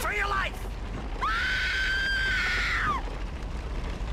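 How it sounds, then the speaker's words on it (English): A woman in the King Kong video game lets out a long, piercing scream, held about two seconds after a brief shorter cry, loud and close. "We'll start with some screams."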